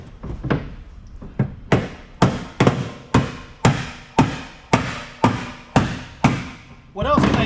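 Hammer blows on a wood chisel being driven into an aluminum tool box to pry it open, a dozen sharp metallic strikes at a steady rhythm, close and loud, followed by a brief scraping creak.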